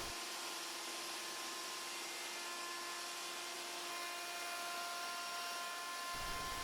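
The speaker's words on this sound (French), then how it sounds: "je la rends parfaitement identique, simplement à la défonceuse" A wood router fitted with a copy bit shapes a wooden bending form, giving a steady high-pitched whine with broadband cutting noise that holds for several seconds before the low end drops away near the end.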